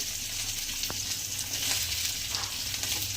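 Capsicums frying in ghee in a pan, a steady loud sizzle with a faint clink of a utensil and light stirring.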